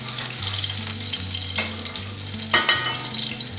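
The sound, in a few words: sautéing vegetables and garlic in a pan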